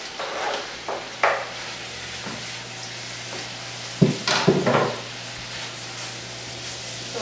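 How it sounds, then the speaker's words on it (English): Bite-sized chicken breast pieces sauté in butter in a pan, giving a soft, continuous sizzle with faint scrapes and clinks of utensils against the pan, then a brief cluster of louder stirring clatter. No one speaks. "And you want this to saute until it's all white and cooked through."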